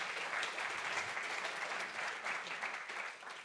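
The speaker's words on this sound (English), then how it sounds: "A big applause." Audience applause at an evening tech meetup, a steady dense patter of many hands clapping together at a fairly close, even level with no talk over it.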